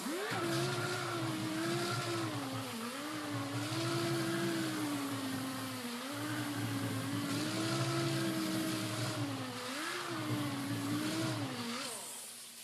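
Mud Hog air sander working Bondo body filler, giving a loud, steady motor whine with a slightly wavering pitch that runs close and unbroken throughout.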